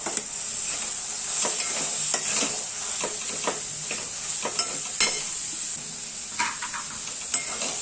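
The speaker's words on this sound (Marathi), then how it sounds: "आता आपण जी मेथी आणि मटर फ्राय करून घेतलेले होते ते टाकून घ्यायचे" Fenugreek leaves and peas are stirred into a sizzling gravy that has released its oil in a pan, with steady frying hiss and repeated scraping strokes of a spoon throughout. No voices.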